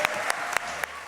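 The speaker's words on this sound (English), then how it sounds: "And now a nice round of applause for all of these candidates." Audience applause for candidates at a 2019 League of Women Voters candidates forum, steady moderate clapping from a room of people, with a few sharper individual claps standing out.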